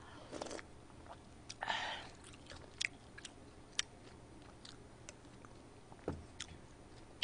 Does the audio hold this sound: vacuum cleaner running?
no